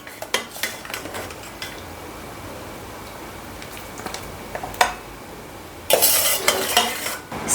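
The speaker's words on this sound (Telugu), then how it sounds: "ఇప్పుడు ప్లేట్లు వేసుకుంటాను." Plates set out after making a wheat-flour sweet clink and clatter in scattered, sharp knocks, ending in a denser burst of dish clatter near the close.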